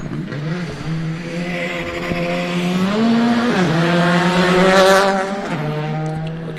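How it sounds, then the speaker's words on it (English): A 3-cylinder Toyota Yaris rally car races past on a stage, its engine note climbing and dipping through gear changes, loud and close for several seconds before fading slightly with a hint of tyre noise. "now we hear the 3-cylinder Toyota Yaris"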